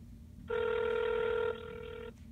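An outgoing phone call on speakerphone gives one electronic ringback tone of about a second and a half that trails into a quieter tail, heard close and alone with no talk.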